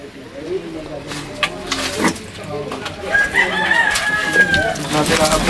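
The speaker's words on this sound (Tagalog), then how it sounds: "Natilaok na daw yun." A rooster crows with a rising, drawn-out call partway through, while other birds cluck and chatter nearby under a busy outdoor background.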